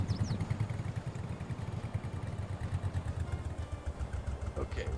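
A tractor engine runs steadily in Farming Simulator 22 with a low, throbbing idle and some light mechanical clatter, heard up close and continuous throughout.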